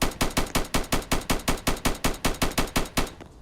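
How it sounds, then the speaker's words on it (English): Shotgun fire in a Fortnite zone wars match: about fifteen sharp, evenly spaced blasts in rapid succession, loud and close, stopping abruptly near the end. "I'm only allowed to use shotguns in the zone with no AR, no SMG"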